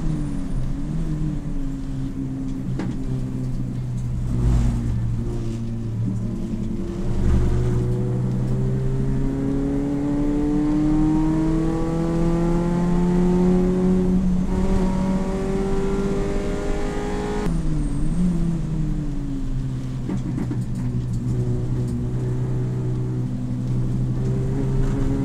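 A race car laps a set of corners at Silverstone, its engine rising and falling in repeated sweeps as it brakes, downshifts and accelerates out of each bend, loud and close throughout with no talk.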